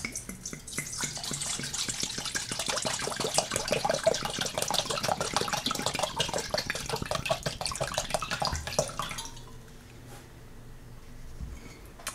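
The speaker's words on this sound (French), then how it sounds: "Je prends un saladier et je vais dedans verser de l'eau." Water is poured gently into a salad bowl for a children's flower experiment, making a steady close splashing and trickling stream for about nine seconds before it stops and leaves quiet drips.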